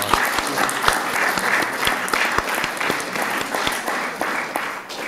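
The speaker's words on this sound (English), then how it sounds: "Let's give them a round of applause." An audience applauds at a 2017 distinguished alumni hall of honor ceremony, steady clapping from a sizable crowd sustained throughout.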